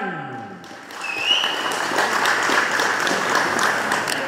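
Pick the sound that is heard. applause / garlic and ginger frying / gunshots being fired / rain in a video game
applause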